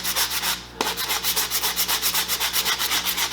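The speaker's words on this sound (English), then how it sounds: "I'll probably run some 80 grit sandpaper over it just to take that nice shine off this thing" 80 grit sandpaper rubbed by hand over a foam axe prop handle in quick, rhythmic back-and-forth strokes, close and loud, with a brief pause near the start and no talking.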